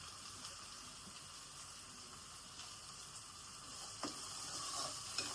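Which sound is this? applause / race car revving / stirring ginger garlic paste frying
stirring ginger garlic paste frying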